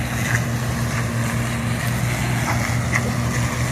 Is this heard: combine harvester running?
yes